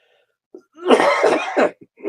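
A single person coughs and clears their throat up close, a harsh burst of coughing followed by a shorter rasp.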